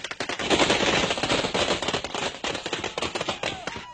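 Police fire rapid bursts of gunshots into the air, crackling continuously, many sharp shots in quick succession, loud and nearby.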